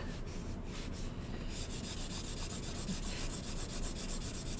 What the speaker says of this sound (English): This lets me just kind of lightly rub it across the paper and it colors it in a lot faster.